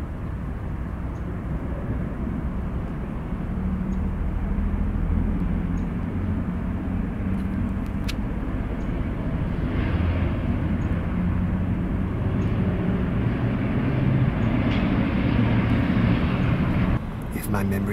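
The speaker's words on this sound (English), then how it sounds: "This is Endeavor Air 5312 on the departure roll from 36 back for Atlanta." An Endeavor Air CRJ-900 regional jet rolls for takeoff from runway 36 bound for Atlanta, its engines producing a steady, broad roar that holds at a distance and swells slightly toward the end.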